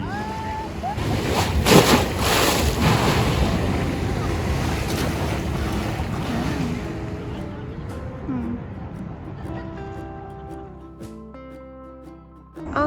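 Surf washing ashore at a nearby beach, a steady broad rush with wind buffeting the microphone; faint voices and other sounds come through toward the end.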